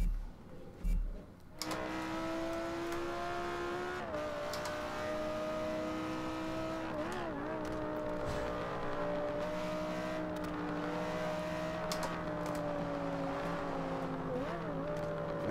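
A car engine drones steadily in the Fast and Furious video game with manual shifting, holding a loud sustained whine that dips and rises with gear changes, close and continuous after a brief noisy start.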